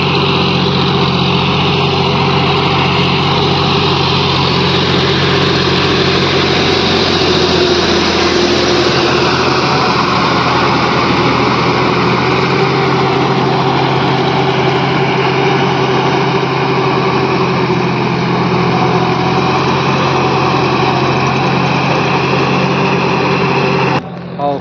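A tractor or power tiller engine drones on steadily through a final puddling round in a flooded paddy field, a loud, close, unbroken hum that barely changes.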